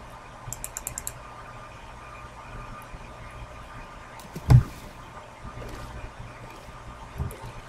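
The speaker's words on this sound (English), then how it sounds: "I'm clicking on you." Sharp mouse and key clicks while playing Minecraft, trying to board a boat: a quick burst of several clicks early, then scattered single clicks and one louder thump, close and dry over a quiet background.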